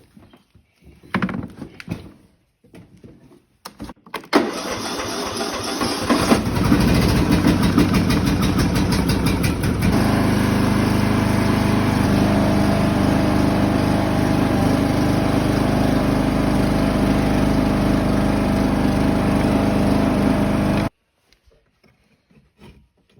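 A ride-on mower with a trailer hitched behind starts after a few knocks and clunks, then its engine runs with a loud, steady drone for about fifteen seconds before cutting off abruptly into near silence.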